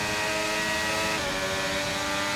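Engine of a race car in a racing video game, Las Vegas round, with the overtake boost and DRS engaged, droning steadily and loudly as it pulls hard out of a corner, its pitch shifting midway.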